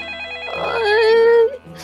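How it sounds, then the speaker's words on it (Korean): A telephone rings in the Minecraft video game, a single bright electronic ring tone that swells and holds for about a second before cutting off. "아니 전화가 계속 울리고 이거 빨리 전화를 받아야겠는데."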